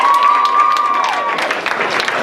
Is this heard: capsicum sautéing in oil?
no